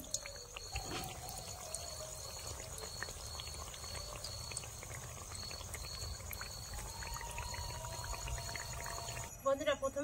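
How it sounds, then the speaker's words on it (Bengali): Goja sweets fry together in hot oil, a soft, continuous bubbling and crackle heard close, with a faint steady tone underneath and a brief clatter at the end. "একসাথে সব ভেজে নেব।"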